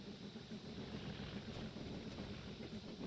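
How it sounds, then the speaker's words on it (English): A Class 37 diesel locomotive passes on the London, Tilbury & Southend line, a steady heavy rumble with continuous engine drone sustained and fairly constant throughout, no voices over it. "It was a class 37 passing I put in for you."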